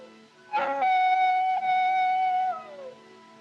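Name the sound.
coyotes howling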